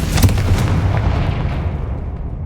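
A Confringo fire spell in Hogwarts Legacy erupts as a single loud, heavy blast that rolls and fades away over about two seconds.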